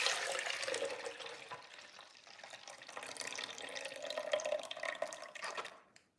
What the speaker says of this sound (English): we got to be quiet because I love to hear the pour